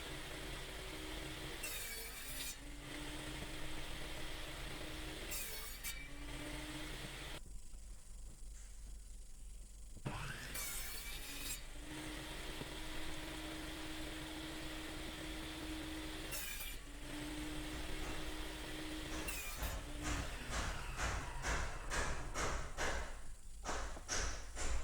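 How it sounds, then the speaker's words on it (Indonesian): Wood is sawn at a 25-degree angle to make pieces for a minimalist wooden flower rack, the steady rasping strokes running through the whole stretch in repeated bursts, close and moderately quiet, with no talk. "Nah, yang ini kita potong miring ya."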